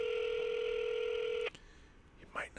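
A phone placing a call to George gives off a steady electronic ringback or dial tone that holds for about a second and a half and then cuts off, leaving faint room noise and a brief murmur.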